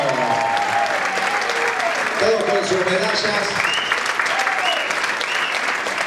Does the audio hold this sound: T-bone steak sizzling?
no